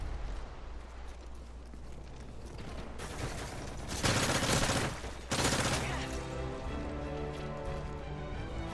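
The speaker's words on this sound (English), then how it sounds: "I was getting shot from two different directions" Gunfire in Call of Duty: Modern Warfare 3, a dense multiplayer firefight with bursts coming from two directions, building to a loud, sustained volley midway before settling back into a steady rattle.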